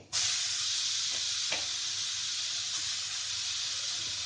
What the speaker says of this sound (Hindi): अब इसमें हम ये जीरा, धनिया, मिर्च, हल्दी सब डाल देंगे साथ में ही। और अब हम पपीता जो कस के रखा था उसको डाल देंगे।